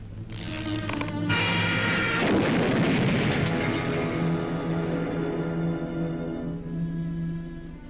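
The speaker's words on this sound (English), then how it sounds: "You may fire when ready, Von Gridley." Cartoon artillery firing in a World War II training animation: a loud blast sets off a long, heavy roar and rumble that slowly fades over several seconds, with musical tones underneath.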